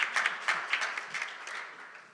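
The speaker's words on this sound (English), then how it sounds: "Let's give Tyler a round of applause." Brief, scattered clapping from an audience at a Special Olympics USA Games partner forum, greeting Tyler; distinct hand claps near the start that thin out and fade within about two seconds.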